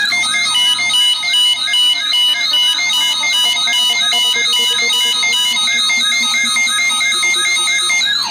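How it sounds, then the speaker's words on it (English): A Midland WR-30 weather radio sounds its secondary siren, a loud, repeating electronic warble that cycles steadily for the whole stretch, with no voices present. "that is the secondary siren that I was trying to show you"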